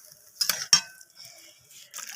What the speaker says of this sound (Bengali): ডালটাকে আমি সব কিছুর সাথে এইভাবে নাড়াচাড়া করে একটু কষিয়ে নিচ্ছি।